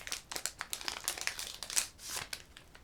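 A Pokémon booster pack being torn open, with its foil wrapper crinkling and crumpling in quick, close, fairly soft bursts and no voice.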